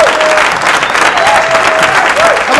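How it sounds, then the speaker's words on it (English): A comedy club audience breaks into loud, full applause for a stand-up comedian in 1980s Boston. Dense clapping runs without a break, with a few faint whoops and tones in the background. "Please, a nice round of applause for Mr."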